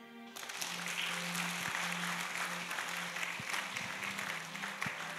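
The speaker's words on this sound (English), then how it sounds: "Clap" Congregation clapping together during a church service, a steady wash of applause filling the room with a low hum running beneath it.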